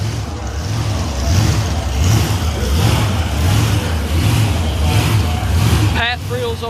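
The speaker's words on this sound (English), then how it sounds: "Another burnout to the 8th mile." A drag racing car at the Wally Parks Nostalgia Nationals does a burnout, a loud steady engine roar with tire noise and rising and falling pulses, while a commentator talks over it.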